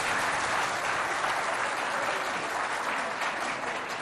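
Audience applauding a school quiz team at a televised contest in Moundou, Chad: a dense, loud, unbroken roar of clapping that holds steady from start to finish.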